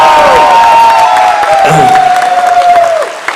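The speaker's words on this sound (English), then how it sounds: "a big round of applause for him" Applause with some cheering and whoops rises from an audience at a business celebration, heard under a loud sustained tone like feedback or music and some voices.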